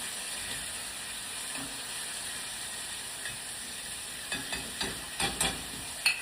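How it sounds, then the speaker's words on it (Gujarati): Frozen kantola (spiny gourd) stirred in hot oil in a pan, a steady low sizzle with a few scraping spoon strokes near the end, no talking. "પછી એના તેલમાં થોડું હલાવી નાખશું."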